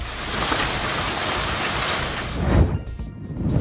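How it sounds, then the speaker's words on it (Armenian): Heavy hail pounds down in a village in Armenia's Shirak region, a dense, steady roar of impacts that swells briefly, then eases into a softer patter with lingering drips. "Ուժեղ կարկուտ է տեղացել Շիրակի մարզի գյուղ Նահապետավանում"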